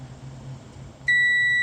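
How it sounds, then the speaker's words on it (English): A multimeter's continuity beeper sounds as its probes touch the inside contact of an HP laptop charger plug: a steady, clear, high electronic tone begins abruptly and holds, loud and alone over faint room noise. "there we are, look, beeping on the inside"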